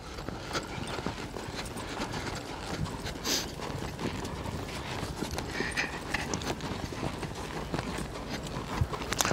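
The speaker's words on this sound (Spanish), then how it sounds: "es un caballito muy, muy, muy dócil, muy noble" A gentle, docile horse being ridden gives a steady run of soft hoof clip-clops on the ground, fairly faint and continuous, with occasional louder knocks and light background noise.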